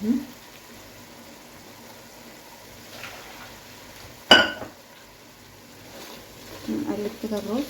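Washed rice stirred and sautéed in a pan with saffron powder: a soft sizzle, faint scrapes and one sharp clank of the spoon against the pan, with brief voices at the start and end.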